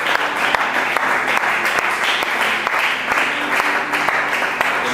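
Congregation at a Friday church worship service applauding and acclaiming, a steady, dense wash of many hands clapping with scattered voices mixed in, loud and continuous throughout.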